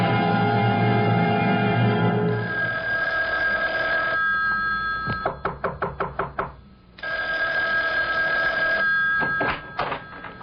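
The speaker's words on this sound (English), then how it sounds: "Isn't that your phone I hear ringing?" An old-fashioned telephone bell rings in repeated bursts in a 1975 radio mystery drama, interleaved with loud rapid knocking and rattling clicks.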